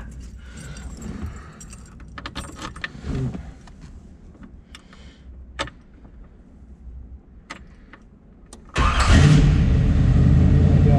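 Keys jingle and rattle near, then a 1961 Chevrolet Corvette convertible engine cranks and roars to life at about nine seconds, settling into a loud, steady idle.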